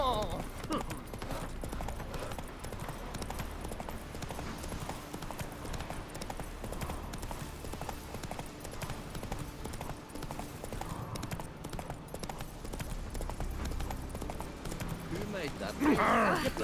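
Roach the horse from The Witcher 3 trots with steady, rapid hoof clops that keep going throughout, moderately loud, under a faint background bed and a speaking voice.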